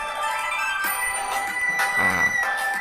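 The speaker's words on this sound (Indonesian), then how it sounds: "Ini suara chipmunk." A high-pitched, sped-up singing voice over music, bright and tinny with a squeaky cartoonish timbre, playing continuously at steady volume.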